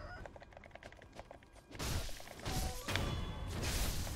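Rooster-like squawks and clucks from rooster enemies in the video game Sekiro: Shadows Die Twice, at Hirata Estate, mixed with thuds and crashing impacts of combat.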